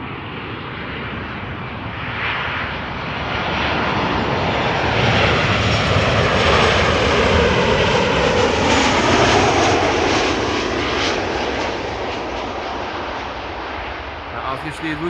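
An airliner arrives on runway 06 at Amsterdam Schiphol Airport. Its loud, broad jet-engine roar swells as it passes close by, then slowly fades, with no break in the sound.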